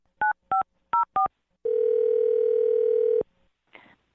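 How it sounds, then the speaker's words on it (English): A telephone dials a number with four quick touch-tone beeps, then a sustained ringing tone lasting over a second, followed by a brief faint click; no speech. "I'm going to dial her phone number right now."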